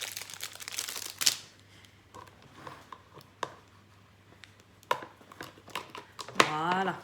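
A cardboard insert, more a stiff card than true cardboard, is pulled from a diamond painting kit box, giving a loud crinkling scrape near the start followed by sporadic rustles and taps, ending in a brief crunchy burst.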